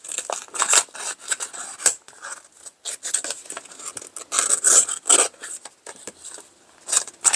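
Small scissors snipping through paper, a rapid run of crisp, close cuts in short bursts with brief pauses between them, and no voices.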